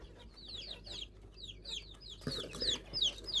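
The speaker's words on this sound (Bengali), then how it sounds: "এই যে আমার মুরগিগুলো বড় হইতেছে আরও" Free-range desi chickens being raised on a small Bangladeshi homestead cluck in soft repeated bursts, several birds overlapping at moderate distance, with a few sharper, louder calls toward the end over faint outdoor background noise.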